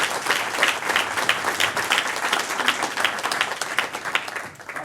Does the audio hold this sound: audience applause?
yes